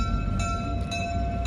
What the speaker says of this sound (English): I believe we got the other excursion train.